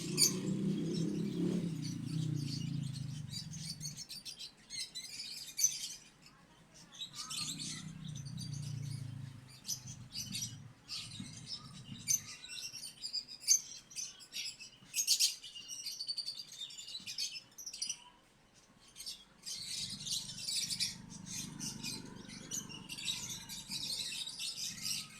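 Young lovebirds chirping insistently during syringe hand-feeding, rapid high tweets in repeated bursts with soft low scuffling between them, close and fairly loud.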